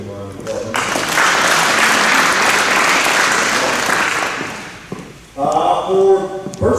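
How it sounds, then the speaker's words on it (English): A high school academic awards audience breaks into a warm round of applause for about four seconds, then fades as a voice begins speaking over the room. "we'll give him a round of applause"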